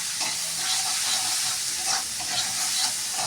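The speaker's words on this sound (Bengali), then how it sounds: "লবণটা দিলে পেঁয়াজটা তাড়াতাড়ি ভাজা হয়ে যায়" Chopped onions sizzle with salt in a hot pan, a loud, continuous frying crackle with soft stirring scrapes and no voices.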